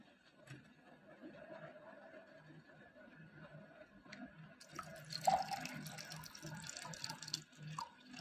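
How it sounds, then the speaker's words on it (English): Water is poured into a glass, starting as faint dripping and trickling and then building into a brighter splashing pour midway. The sound is quiet and close, with faint background noise. "Now I will pour the water into glass."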